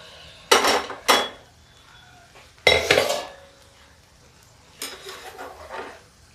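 A few sharp metallic clatters and scrapes of a pressure cooker and utensils as lentils are added, in short bursts separated by quiet pauses, close by.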